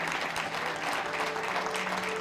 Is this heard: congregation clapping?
yes